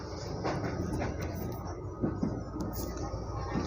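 An Indonesian commuter train heading to Sudimara station runs with a steady low rumble and rattle from inside the carriage, a voice speaking over it.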